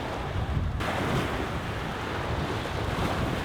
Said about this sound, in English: They were small, but there were waves.